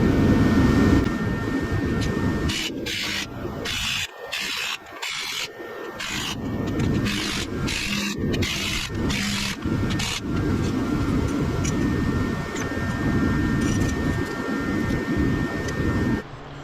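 Battery-powered impact wrench running in repeated bursts over a loud mechanical whir, with brief gaps between the hammering runs, close and strong throughout.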